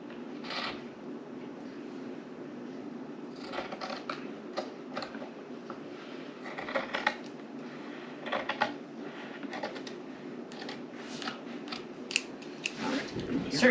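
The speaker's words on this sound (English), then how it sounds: "Certain things easier to do with scissors" Scissors snip through craft material while making an Easter bunny, with repeated short crisp cuts in irregular bursts over a low steady hum, and people talking quietly at moments.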